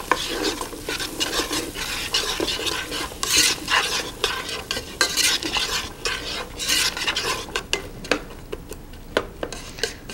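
Onions stirred in a hot pan, with rapid repeated scraping and clinking of a utensil against metal over a steady sizzle, loud and close throughout.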